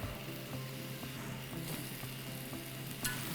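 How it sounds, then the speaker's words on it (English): Zucchini, yellow squash and garlic sauté in a pan over medium heat with an even, close sizzle, soft regular stirring taps and one sharper clink near the end. "we are just gonna saute these veggies and the garlic together until the squash has softened a little bit"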